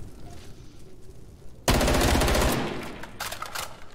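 A FAMAS assault rifle fires a loud, rapid burst in a competitive online shooter match, a dense stream of shots lasting about a second before trailing into further bursts and echoing gunfire.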